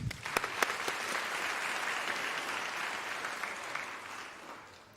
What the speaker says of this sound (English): I would like you to give yourselves a round of applause